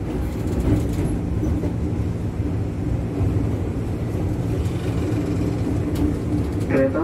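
A commuter train pulling into platform 1 at Manggarai Station in Jakarta, a steady loud rumble of wheels and carriage noise with a faint high squeal toward the end.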